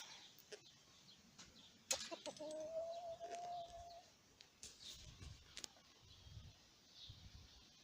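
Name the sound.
roosters in their pen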